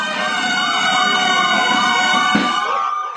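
Emergency sirens wail loudly and continuously at a memorial roll call, their rising and falling tones layered over one another close by.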